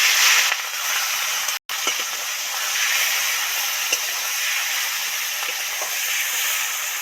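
Prawns sizzling in hot oil in a wok for a tiger prawn (bagda chingri) curry, a steady loud hiss and spatter that holds throughout with one brief dropout near the start, no talking.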